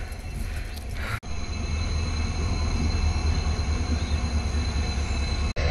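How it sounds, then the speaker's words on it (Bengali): A large train arrives at Agartala station, a continuous loud rumble of rolling wagons and wheels on the track heard up close, with a brief break partway through and no talk. "বিশাল তো ট্রেনটা, আইতাছে আইতাছে ট্রেনের ব্যাগ গিয়ার"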